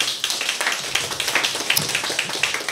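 An audience claps for a choir at the close of a concert, a thin scattering of hand claps with irregular rhythm, fairly quiet and brief, without cheering or voices.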